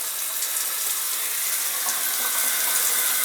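Shower water runs steadily from the pipe while cold water is cleared in a home with a no-hot-water complaint, giving a constant, fairly loud hiss with no voices.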